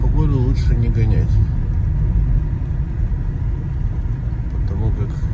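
A car drives slowly along a snowy New York road during a snowstorm, with a steady low engine rumble and road noise throughout and brief talking inside the vehicle.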